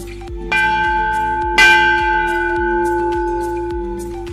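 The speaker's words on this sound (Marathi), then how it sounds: "घंटा मुलताय मोठे, लय जोरात वाजते" A large temple bell rings out loudly with a deep, sustained metallic hum, struck once more partway through, its tones slowly fading.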